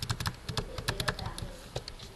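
Computer keyboard keys pressed for a Ctrl+R shortcut during a Cisco router command-line session, a quick run of close, crisp clicks in irregular bursts with no voices.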